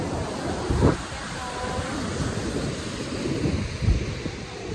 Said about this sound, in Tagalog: Sa totoo lang nakakatakot maligo kasi ang lakas pa rin po ng alon.